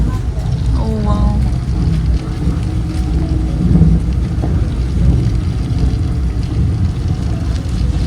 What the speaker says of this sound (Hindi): इतनी तेज़ बारिश होने लग गई है।